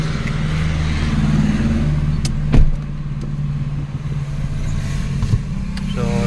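A 2020 Hyundai Accent CRDI drives on a road test, its steady low engine hum and road rumble filling the cabin, with a couple of brief knocks and a voice talking over it.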